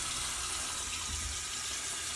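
Running tap water pouring over a makeup brush as it is rinsed, a continuous bright hiss with a low gurgle under it, close and with no talk.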